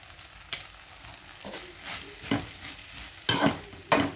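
Okra (ladies finger) being stir-fried in a pan with turmeric powder, giving a low background sizzle broken by a few sharp scraping and clinking stirs of a utensil against the pan, the last two loudest.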